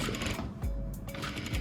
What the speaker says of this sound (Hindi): सबसे पहले मैं एक सिंगल सिलाई लगा रहा हूँ